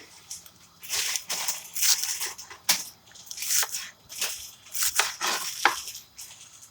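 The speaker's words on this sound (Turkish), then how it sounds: "Bu şekilde doğramaya devam ediyorum." Repeated knife chopping on a board, close up, in uneven bursts of crisp strokes with short pauses between.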